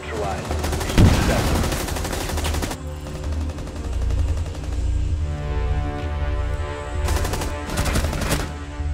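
Loud bursts of gunfire from Rainbow Six Siege, rapid shots and automatic fire over a low rumble, with voices talking underneath.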